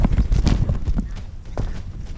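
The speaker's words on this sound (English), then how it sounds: "This young horse was on its own confused rampage." A young horse's hooves thud rapidly on the ground nearby, an uneven galloping patter amid rustling noise.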